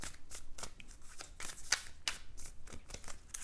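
Tarot cards are shuffled by hand up close, a quick series of soft riffling flutters and sharp slaps of the deck, faint and crisp in a quiet room.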